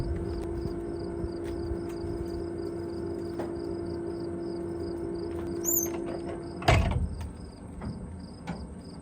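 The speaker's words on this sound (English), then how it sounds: "I can come in right here, open up my door." A firewood storage door swings open beside an IBC tote, a sudden sharp clunk and rattle after a stretch of quiet outdoor hum and chirping insects, then fading scrapes.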